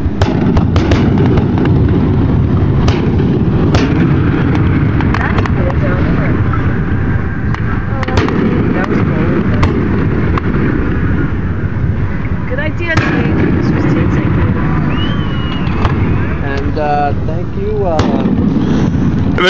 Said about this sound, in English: I've never seen so many fireworks in my life.